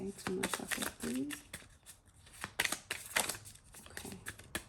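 Tarot cards being shuffled during a reading, quick bursts of riffling and flicking card noise in short repeated runs, close and fairly quiet, with a voice speaking between the shuffles.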